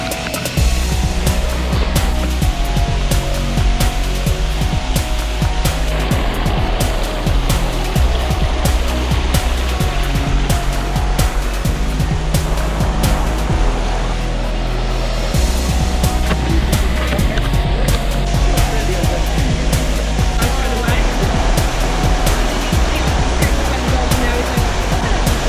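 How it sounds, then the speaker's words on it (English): Merja's Waterfall in Wellington, New Zealand roars continuously nearby, a dense, steady rush of falling water filling the whole scene without pause. "That is Merja's waterfall"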